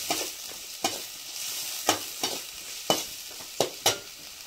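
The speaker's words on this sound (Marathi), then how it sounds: "त्या अननसाचा तुकडा असं परतून घ्यायचं तेलामध्ये चांगलं" Pineapple pieces are stirred and sautéed in hot oil in a pan, a steady soft sizzle broken by sharp, regular scrapes of a spoon, about eight in a few seconds, with no talking.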